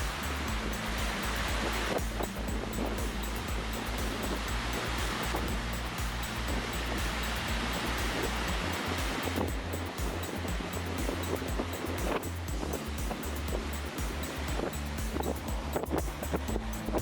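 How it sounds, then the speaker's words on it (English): Steady, continuous roar of wind-driven waves on a lake in Patagonia, with gusty wind buffeting the microphone throughout; no voices. "It's windy enough for the wind to whip up waves on the lake."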